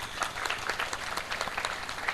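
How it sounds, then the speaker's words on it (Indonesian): A seated audience claps at a formal aid handover ceremony and speech, a soft, steady patter of many hands heard from a distance with no voices over it. "Boleh tepuk tangan untuk itu."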